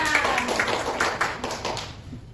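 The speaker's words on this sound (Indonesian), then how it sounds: "Tepuk tangan dulu untuk Joya" Pupils in a sixth-grade maths class clapping for a classmate, a brief, moderately loud patter of many hands that tapers off within a couple of seconds.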